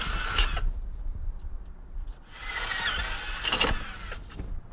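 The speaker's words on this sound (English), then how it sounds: "Take my 1/4 inch drill bit and drill through this." A 1/4 inch drill bit bores through a screen door frame in two close, loud whirring bursts, a short one and then a longer one, separated by a brief pause.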